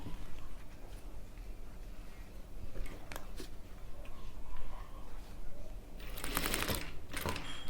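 A sewing machine stitching the plate of a boys' tuxedo suit, a quiet, steady mechanical whir with intermittent ticking, plus a louder burst of rattling near the end.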